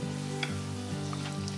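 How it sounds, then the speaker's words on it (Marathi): Chirote, flaky rose-shaped pastries of maida flour, frying in hot oil, a faint continuous bubbling sizzle with a steady low hum under it and no voices. "या प्रकारे आता आपण सगळे चिरोटे तळून घेऊ."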